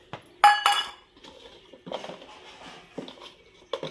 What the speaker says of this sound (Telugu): ఇప్పుడు నేను దీన్ని ఒక గిన్నెలోకి పెట్టేస్తాను.